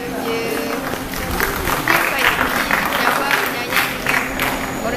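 Applause from a group at a motivational course session, a steady patter of hand clapping rising and falling behind ongoing talk in a room.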